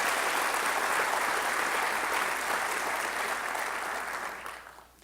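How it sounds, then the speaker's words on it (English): Dense, sustained applause from a large audience at a civic development update event in Long Beach, holding steady and loud before tapering off in the final second. "So can we give them all a big round of applause and thank them?"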